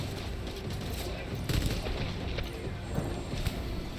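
Gunfire in the video game Death Stranding: a few scattered shots and short bursts pop over a busy, rumbling game soundscape.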